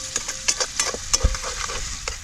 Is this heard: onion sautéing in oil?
yes